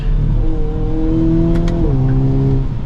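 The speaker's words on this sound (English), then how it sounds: "The exhaust has a pretty cool sound to it as well." A 2023 Hyundai Kona N accelerates hard, its engine and exhaust revving up in a rising drone that shifts down into a lower pitch, then climbs again, loud and close, with a couple of brief crackles in the middle.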